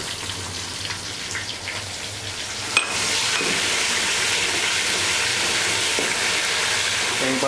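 Ground green chillies hit a hot pan of daal mash masala with tomatoes and spices, and a sudden loud burst of sizzling frying follows, steady and close after a quieter simmer.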